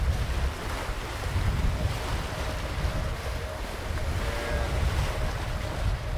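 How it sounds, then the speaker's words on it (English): Waves roll in on the shore near Burlington, Vermont, a soft continuous wash of surf with gusty wind buffeting the microphone, steady and fairly quiet with no voices. "Got some good waves coming in."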